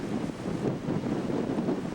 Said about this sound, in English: We're now down in Galway Bay. And it's very windy.